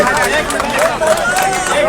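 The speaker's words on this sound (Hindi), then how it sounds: "तालियां बजती रहनी चाहिए इस साथियों की" A dense, steady roar of crowd noise at a Congress party rally in Hisar during a nomination event, loud and continuous throughout with applause-like texture and a busy, close-packed wash of sound.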